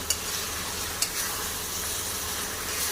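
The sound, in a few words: fried potatoes sautéed with spices for biryani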